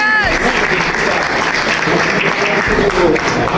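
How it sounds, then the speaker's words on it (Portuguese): A church congregation at a revival service claps in praise, a loud, dense, sustained roar of hands with a voice rising over it near the start and again toward the end. "Vamos aplaudir a Jesus."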